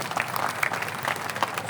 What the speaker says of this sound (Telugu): చప్పట్లు కొట్టినమ్మా